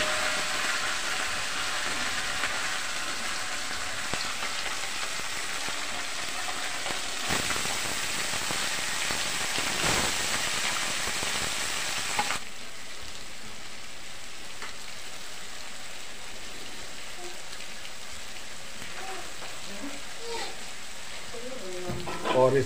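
Small fish frying in a pan give a steady, close sizzling hiss that runs throughout, dropping slightly in intensity about halfway, with a few faint clinks near the end.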